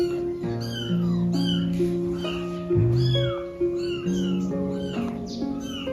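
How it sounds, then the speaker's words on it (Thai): A cat with kittens in an abandoned house in Laos meows repeatedly, a series of clear, rising-and-falling cries over a steady tonal musical backdrop. "แมวอันนี้"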